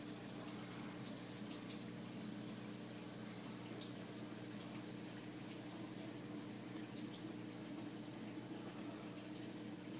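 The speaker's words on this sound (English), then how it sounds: "Sump pump. You can see the water coming up." Water flows back into a saltwater aquarium sump in a steady, quiet stream over a low continuous pump hum, flowing without pause throughout.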